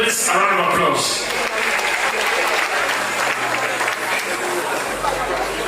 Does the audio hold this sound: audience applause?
yes